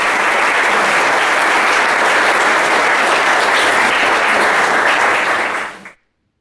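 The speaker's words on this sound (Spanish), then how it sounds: "denle un aplauso a Chichi por su fortaleza y su disposición" A church congregation applauds steadily, a dense and loud wash of many hands clapping at once that continues without a break, then stops abruptly at the end.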